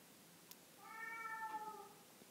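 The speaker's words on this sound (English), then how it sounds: "just ignore the cat in the background" Cat meowing in the background of a quiet room, a single faint, drawn-out meow lasting about a second, distant and soft.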